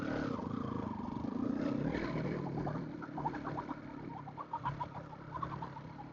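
Chickens cluck softly nearby, short repeated calls scattered over a low rumbling background during an off-road drive, growing more distinct toward the end.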